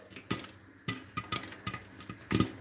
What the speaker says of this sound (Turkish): Oley mısırımız patlıyor.